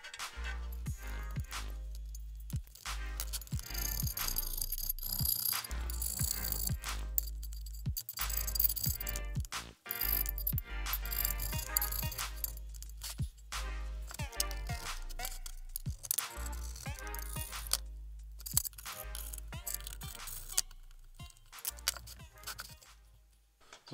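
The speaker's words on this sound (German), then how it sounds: "ich kratze jetzt hier einfach mal ganz grob schon mal die ganzen Dichtungen runter" Old gaskets are scraped roughly off an engine valve cover with a metal tool, giving continuous rattling, clinking scrapes in dense repeated strokes, close and loud throughout.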